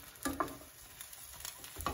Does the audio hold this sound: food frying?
yes